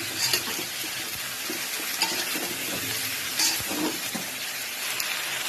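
Chopped onions, dried chillies and black cumin are stirred together in a hot pan, a steady sizzle punctuated by spoon scrapes and clinks against the metal, close by and without speech.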